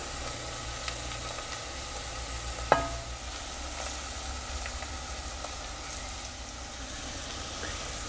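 Onion fries in oil in a cast-iron pot, giving a steady, moderately quiet sizzle throughout. A single sharp clink breaks in near the middle.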